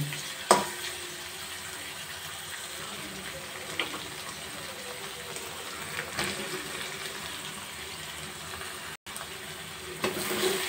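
Drained chhana cheese dropped into a pan of spice masala that has been fried down, giving a steady low sizzle with a sharp splash at the start and scattered scraping, stirring knocks throughout.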